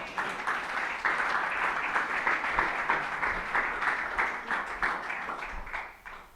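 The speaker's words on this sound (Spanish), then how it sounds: "Dame un aplauso al Señor." A church congregation at a priests' gathering applauds, a sustained dense wash of clapping from many hands in a large room, fading out at the end.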